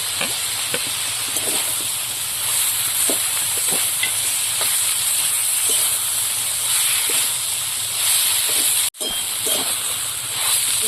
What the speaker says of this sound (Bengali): এবার জিরে বাটাটা দিয়ে দেবো, দিয়ে আর একটু কষিয়ে নেবো।